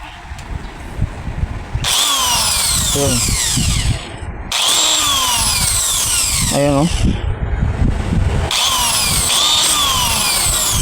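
An angle grinder motor, under repair, whirs up in three short bursts to check its carbon brushes and armature, spinning with a high whine, separated by brief pauses where a voice speaks.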